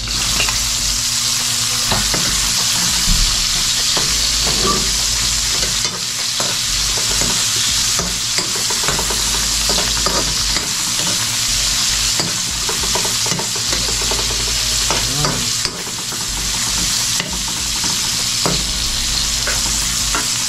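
Onions sauté in a hot pan while beef skin is being prepared, giving a loud, continuous close sizzle with repeated scraping stir strokes and no talk.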